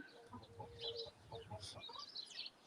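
Birds in the big trees of neighbouring gardens on a morning, with scattered chirps and calls at moderate distance against a low background murmur, calls repeating irregularly throughout.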